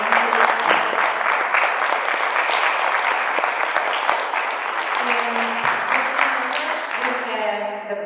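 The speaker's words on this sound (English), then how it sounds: "So can we give our candidates a round of applause" Audience at a League of Women Voters candidate forum for Public Service Commission hopefuls breaks into sustained applause, dense and steady for about eight seconds, with a few voices murmuring as it tapers.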